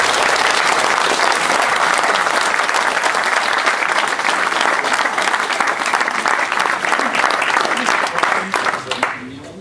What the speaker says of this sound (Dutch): Mag een applaus.